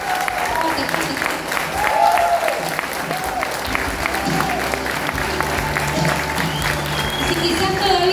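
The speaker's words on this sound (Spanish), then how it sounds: "Dale un fuerte aplauso al rey" A church congregation applauding after a Spanish-language sermon, broad sustained clapping under a continuous bed of voices and cheering, with musical tones sustained in the background throughout.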